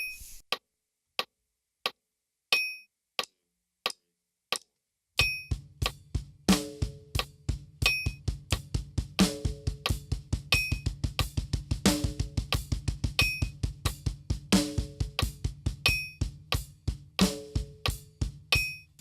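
A steady metronome ticks alone at first, then rapid double bass drum strokes join with regular hi-hat accents, a tight, even pattern played close and moderately loud.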